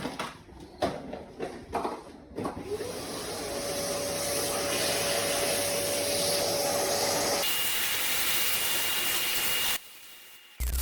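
A vacuum cleaner runs steadily while picking up leftover glass fragments inside an opened Toshiba 65UA3D63DT television during a panel replacement, starting after a few handling knocks and cutting off abruptly near the end.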